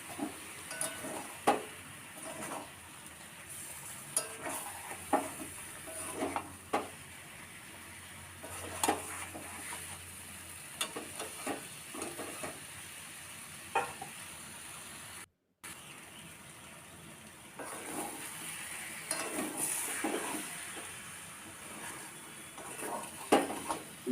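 Spice paste fries with a little water in a karai for a fish head and mankochu curry, giving faint sizzling under repeated scraping and clinking of a spoon against the pan, with quiet kitchen background.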